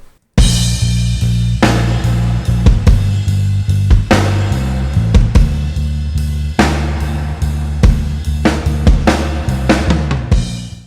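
A rhythmic bass guitar line plays with a full drum kit in a pop song, loud and steady with regular kick and snare hits throughout.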